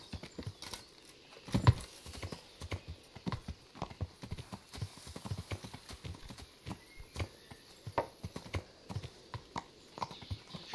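Horse hooves clip-clop in a steady walking rhythm through the medieval world of Kingdom Come: Deliverance, moderately close and continuous, with a brief heavier thump early on and no talk over them.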